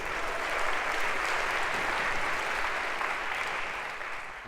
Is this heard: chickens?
no